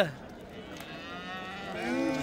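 Cattle low at a busy livestock bazaar, with one drawn-out moo rising near the end over a low murmur of crowd noise.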